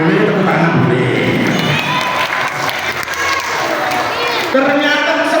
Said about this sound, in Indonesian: Boleh tepuk tangan, boleh.